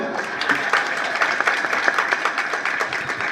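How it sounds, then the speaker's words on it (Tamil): An audience claps steadily and loudly throughout, a dense wash of many hands applauding with no pauses. "கைத்தட்டுங்க பார்ப்போம்"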